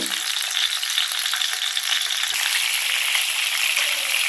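Steady, loud sizzling of chicken pieces frying in hot oil, a continuous crackling hiss with no voices, close up.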